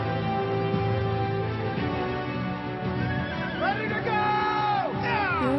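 Horses in the animated film Spirit: Stallion of the Cimarron whinny and neigh over thick orchestral music and hoofbeats, with several rising calls toward the end.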